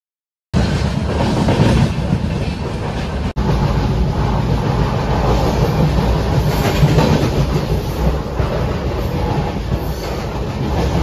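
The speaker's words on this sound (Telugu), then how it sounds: "ఫైనలీ మన ట్రైన్ అయితే ఇప్పుడే బయలుదేరింది సికింద్రాబాద్ రైల్వే స్టేషన్ నుంచి" Kakinada Port Express passenger train pulling out of Secunderabad railway station, a loud continuous rumble and rattle heard from on board, with steady wheel noise running throughout after a brief silent start.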